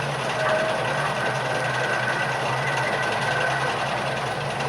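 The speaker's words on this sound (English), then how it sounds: "The diesel train." A steady, droning diesel train engine rumble with a constant hum, like a train idling, with no voices, from a cartoon.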